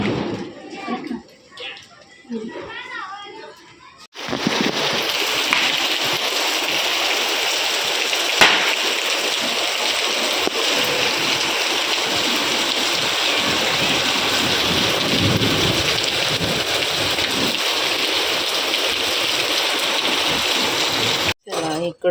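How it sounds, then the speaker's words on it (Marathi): Steady, loud rain pours down continuously after a brief quieter opening with voices, a dense hiss filling the whole stretch. "पाऊस"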